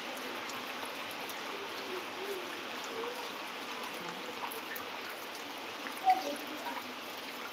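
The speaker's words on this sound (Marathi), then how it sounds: "पाऊस बघू शकता किती चालू आहे" Heavy monsoon rain pours steadily in Nashik district, a dense, even wash of falling water and runoff with no voices, holding constant throughout apart from one brief bump near the end.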